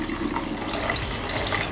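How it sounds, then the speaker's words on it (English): Water pours steadily from a container into a pan of braising lamb breast with onions and stock, a close, continuous splashing and gurgling for under two seconds. "Go in with a bit of water."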